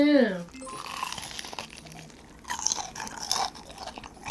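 Crisp crunching bites and chewing of fried chicken, up close, while people talk in between.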